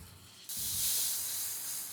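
Sliced tomatoes and onions, a quarter kilo each, hit a hot pan for a lentil-ball kuzhambu and break into a loud, steady sizzling hiss that holds for over a second.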